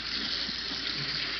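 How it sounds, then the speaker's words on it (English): Hot water poured steadily over cooked ground meat in a strainer to rinse off excess fat for hiking chili, a continuous close splashing rush heard alone. "I'm going to put it in here and strain it with the water to get all the excess fat off of it."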